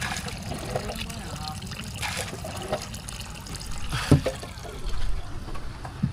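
River water flowing and trickling in a steady, fairly quiet stream, with occasional splashes and people talking over it.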